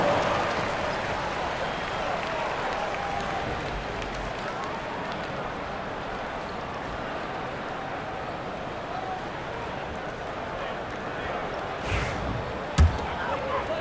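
Steady crowd applause and cheering from an arena in the NBA 2K25 video game, Orlando Magic vs Miami Heat, a constant wash of noise with a couple of sharp thumps near the end.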